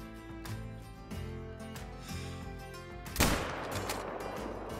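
A single sharp rifle shot rings out in the hunting game Call of the Wild, a loud broadband crack near the three-second mark that decays into a lingering echo over soft ambient game music.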